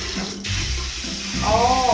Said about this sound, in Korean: 샤워기 헤드 써 볼래?